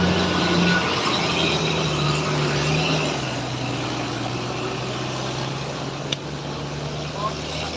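Japanese-made Mitsubishi Fuso tronton truck passing on a road, a loud steady engine drone with low humming tones that gradually settles, heard without talk.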